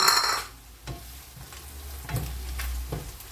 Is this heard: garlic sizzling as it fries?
yes